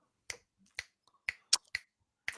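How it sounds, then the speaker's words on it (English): Six sharp finger snaps at an irregular pace, crisp and close, each one short and isolated against silence, with no talking in between. "Or stop clicking your fingers."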